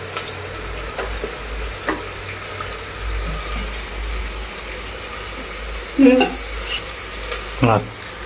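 Onion, potato, tomato and chilli are tipped into a hot pan for spiced village rice and fry with a steady low sizzle, while stirring clatters now and then, with a couple of louder knocks near the end.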